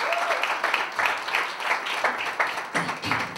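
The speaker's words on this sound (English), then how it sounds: "Give them a round of applause before you even know who they are." An audience claps in a sustained, dense round of applause at a community event, steady and fairly loud for the whole stretch with a few louder bursts.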